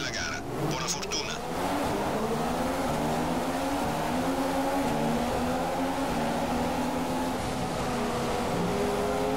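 F1 car from F1 2015 racing at Silverstone in wet weather, its engine a loud, steady high-pitched whine that climbs through gears continuously from start to finish, with a short burst of brighter noise at the very beginning.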